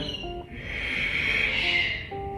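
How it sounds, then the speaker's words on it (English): A steady, breathy hiss of a slow ujjayi yoga exhale through a constricted throat, close and fairly loud, lasting about two seconds. "so you should hear the breath."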